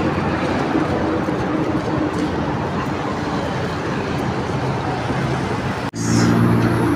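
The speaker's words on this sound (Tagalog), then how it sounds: "Ang bilis sa patakbo ng mga sasakyan guys." Heavy road traffic with large vehicles rushing past fast on a busy highway, a loud constant roar and rumble close by that cuts off abruptly, then shifts to a different engine drone.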